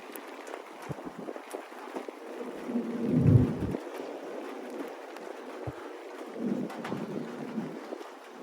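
A thunderstorm at the southern edge of the storm, with low rolling thunder swelling to a deep rumble midway and a softer rumble later, over a steady patter of rain.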